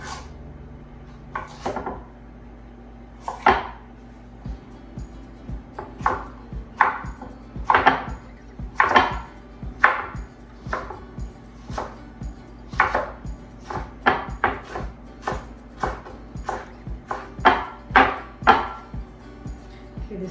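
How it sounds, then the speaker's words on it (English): A knife slices cucumbers very thin on a wobbly, warped cutting board, giving a long run of close, sharp knocks in an uneven, quickening rhythm with small rattles between cuts. No one speaks. "now I'm gonna slice the cucumbers very,"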